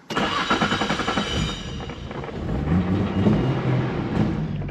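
An ethanol-fuelled turbocharged car engine cranks and catches, then settles into a rough, pulsing idle and low revs, loud and close with no talking.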